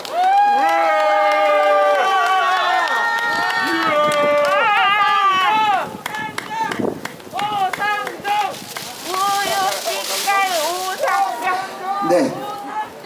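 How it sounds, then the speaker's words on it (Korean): Crowd at an outdoor rally at Incheon City Hall applauds and cheers to welcome a speaker, loud and sustained clapping with shouts and whistles, voices calling out over it. "여러분들 큰 박수로 환영해 주십시오"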